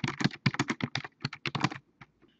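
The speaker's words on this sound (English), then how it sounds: "you can use the text tool and you can type text on the whiteboard" Quick bursts of keystrokes on a computer keyboard, close and fairly soft, in uneven clusters with brief pauses and no talking.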